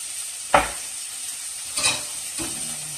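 Jarred garlic dropped into a hot pan, a quiet background hiss of oil broken by three short bursts of sizzling and stirring scrapes close to the mic.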